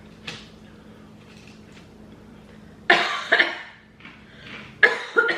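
A few sharp, close coughs in two quick bursts, each a pair of harsh hacks, after a moment of quiet, after eating spicy potato chips.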